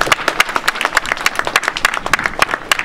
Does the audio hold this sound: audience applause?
yes